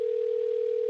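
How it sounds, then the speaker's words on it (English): A steady single-pitch telephone ringing tone sounds alone as an outgoing call connects to a real estate business, loud and unbroken throughout. "You guys can hear that call ringing, yeah?"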